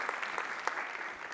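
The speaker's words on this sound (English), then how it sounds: "So I want to do a quick round of applause for Antoine." Brief, moderately quiet applause from a keynote conference audience, a patter of many hands clapping at a steady density, heard on its own with no speech.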